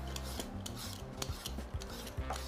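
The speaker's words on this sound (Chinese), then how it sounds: "我就會刨咗個蓮藕皮先啦" Lotus root skin is peeled with a peeler in a kitchen. Quick, quiet rasping scrapes repeat in short strokes close to the microphone, with no talk.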